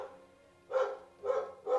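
A pair of pet dogs let out three sharp barks in quick succession after a brief quiet moment, each bark clear and close with no voices alongside.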